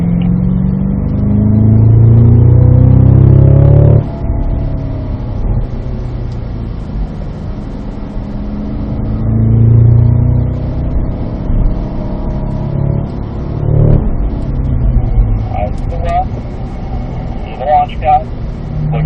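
A Cadillac CT5-V Blackwing on a track drive, its engine rising and falling through revs under throttle with deep surging tones, heard from inside the cabin beneath an instructor's frequent talk over a radio.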